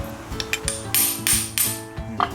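Several sharp metallic taps and knocks as a UFO-style gear shift knob is tapped down with a block, irregularly spaced, with a faint mechanical rattle between them, close by and without speech.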